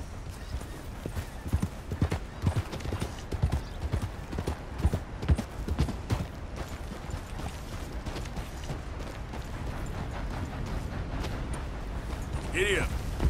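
In Red Dead Redemption 2, a horse's hooves clip-clop in a quick, steady rhythm on the ground for several seconds, then give way to a continuous rushing rumble. A voice briefly calls out near the end.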